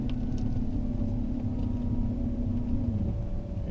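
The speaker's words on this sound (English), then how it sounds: "Just do a little bit of a gentle power turn here now" A BMW E31 840Ci converted to electric power makes a gentle power turn, giving a steady low motor hum and road rumble that fades slightly near the end, with no talk.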